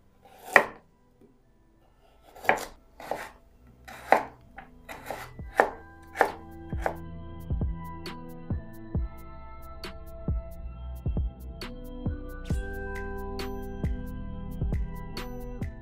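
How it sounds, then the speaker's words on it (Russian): A knife chopping carrots into cubes on a board for smoked-meat pea soup, starting with a few separate sharp knocks and then settling into a quick, steady run of close, crisp cuts. "И морковь тоже нарезаю кубиками"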